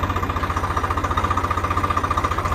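A tractor engine drives a rotavator in a field, chugging in a rapid, steady low rhythm with a rattling, knocking edge, moderately close and without any voices.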